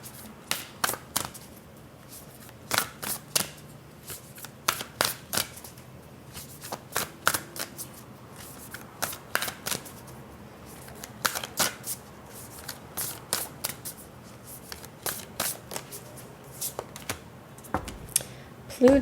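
A Black Moon Astrology card deck is shuffled by hand in a long run of crisp, rapid riffles and papery slaps, coming in irregular bursts close up.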